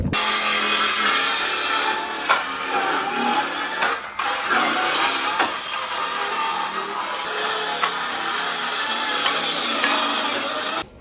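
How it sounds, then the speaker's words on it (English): Continuous close-up sawing as trim is cut away from the side of a wooden workbench, a steady rasping hiss with brief dips and a few sharper catches throughout. "I end up cutting this trim off the side."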